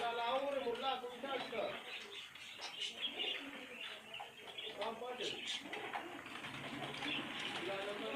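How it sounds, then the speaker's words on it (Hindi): Pigeons coo and call inside a bird shop in Balochistan, a dense chorus of soft cooing and chirps running throughout beneath someone talking. "आप इनके कबूतर चेक करें।"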